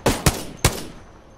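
Gunfire in the video game Apex Legends: three sharp, loud shots in quick succession, the first two close together and the third after a short pause, each trailing into a brief fading echo.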